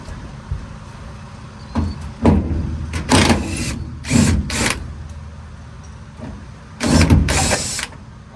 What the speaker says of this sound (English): these two bolts right here are your rear cab mounts. So I'm going to hit them with an impact and snap them off.